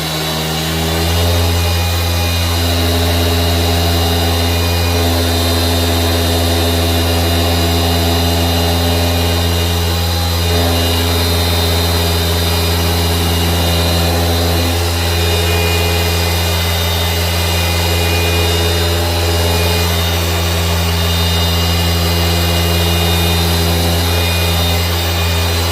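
A car paint polishing machine running steadily and loud, a constant motor whine with a steady hum underneath, holding a fairly even pitch as it comes up to speed.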